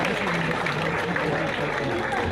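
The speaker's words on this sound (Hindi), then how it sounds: "स्वागत करें आप जोरदार तालियां बजाकर।" Audience at an open-air Hindi poetry gathering (kavi sammelan) clapping loudly in welcome, a dense continuous roar of applause with crowd murmur throughout.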